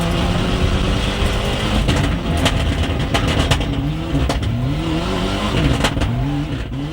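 Ford Escort Cosworth rally car at speed, its engine revving up and down through rising and falling pitch sweeps, loud and close, with crackling bursts and gravel or tyre noise.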